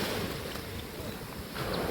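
Ocean surf breaking against beach cliffs on an Indonesian coast, a dense continuous wash of roaring water with wind rumble, steady throughout and swelling slightly at the end, no voices.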